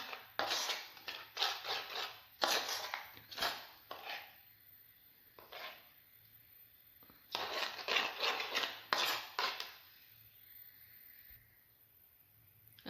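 Corn flour batter is stirred and beaten in a bowl, with rhythmic bursts of scraping and slapping in two clusters separated by a brief pause.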